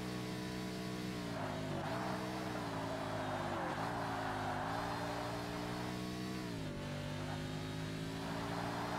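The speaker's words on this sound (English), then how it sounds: "Honestly, some of the engine noises in this game are so unrealistic." Car engine in the Forza Motorsport racing game, revving with harmonic pitch that rises and falls through gear changes, steady and close throughout, with no one talking.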